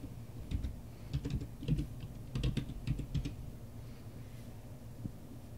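Rapid bursts of typing on a computer keyboard as gene names are entered, soft clicky keystrokes in uneven clusters with short pauses, quiet and close with no voices.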